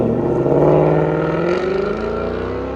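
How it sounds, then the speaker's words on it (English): A 2019 Ford Mustang GT convertible's 5.0L V8 rumbles through a custom Corsa Xtreme catback with Vibrant resonators, a loud, deep, steady burble that eases slightly toward the end. "Ford Mustang GT50 convertible with a custom Corsa catback kit that we had to custom make fit with double helix"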